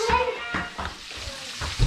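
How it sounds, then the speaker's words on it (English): Fish sizzling and crackling in hot oil in a pan, a steady hiss with short bursts of spattering up close. "Now we are frying fish here."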